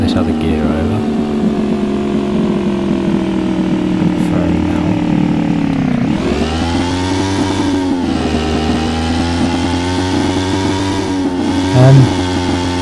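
Quad bike engine in the survival game Hurtworld, a continuous mid-pitched motor drone that shifts pitch as it revs and settles, running close and loud without talk.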